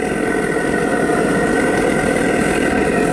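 A homemade propane torch burning inside a foundry, a loud, constant roaring hiss with a steady low rumble and no variation across the whole span.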